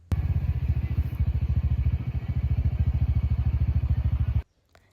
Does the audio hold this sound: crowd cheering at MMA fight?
no